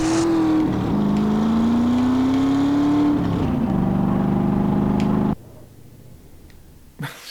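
A hard-to-handle car in GTA San Andreas drives and revs, its engine droning loudly with pitch rising and dipping through gear changes, then cutting off abruptly to near quiet with a brief knock.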